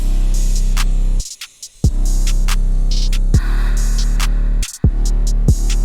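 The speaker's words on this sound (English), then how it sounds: "And the drums should sound something like this." Trap drum pattern with a deep, booming 808 bass under crisp hi-hats and snappy snare hits, looping steadily with brief dropouts.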